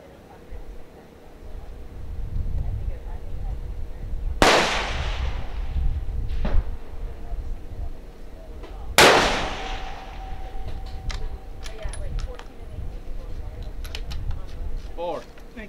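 Two sharp, loud rifle shots at a long-range precision shooting match on a windy range, a few seconds apart, each with a trailing echo, under steady wind noise and talking voices.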